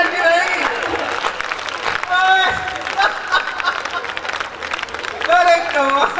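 An audience at a large Hindi comedy poetry gathering in Behror claps loosely and intermittently, the applause rising and fading in bursts beneath crowd murmur and a loud voice speaking over the venue sound.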